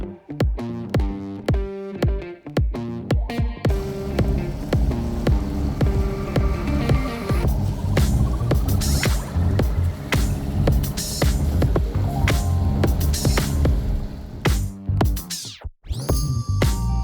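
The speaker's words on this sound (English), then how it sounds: "Well, I got the engine running." A sailboat's engine runs after a filter fix, a steady throbbing hum. It starts in uneven pulses, then settles into a continuous loud drone close by, with a brief dip near the end.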